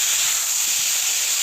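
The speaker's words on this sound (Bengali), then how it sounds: "নুনটা দিলে আপনিই একটা জল বেরোয়, তাতে আমার ভাজাটা ভালোভাবে হবে" Salted flat beans frying in a pan give a steady, loud hiss of sizzling and steam that holds evenly from start to finish, with no voices.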